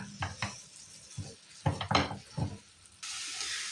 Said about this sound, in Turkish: 1 yemek kaşığı sirke ekliyorum. Yine kavuruyorum.